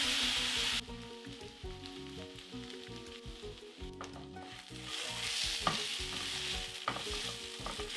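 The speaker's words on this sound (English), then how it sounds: "toast some cumin seeds, sliced onions, season some salt and pepper" Cumin seeds and sliced onions fry in vegetable oil with a steady, close sizzle, broken up by repeated stirring scrapes in the pan and a brighter hiss near the start.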